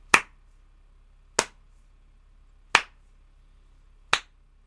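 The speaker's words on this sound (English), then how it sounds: "everyone in the room looks around as this loud, slow clap cuts through all the voices" Four loud, sharp hand claps ring out alone at slow, even intervals of roughly a second and a half, each with a brief decay into silence.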